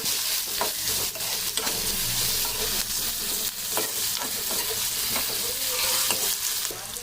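Cumin seeds and curry leaves fry in oil in a pan for brinjal fry, making a loud, continuous sizzle with frequent scraping stir strokes throughout, and no voices.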